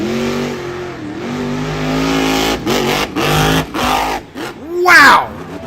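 The Son of a Digger monster truck engine roars and revs hard in an arena, then surges as it launches, loud and close, with the pitch climbing and dipping under a commentator's excited talk.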